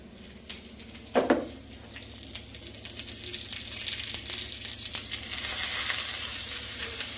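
Leafy greens dropped into hot oil with plenty of garlic tempering, beside a pot of mung dal with flat beans and peas, giving a sudden loud burst of sizzling that settles into steady close frying hiss and spitting.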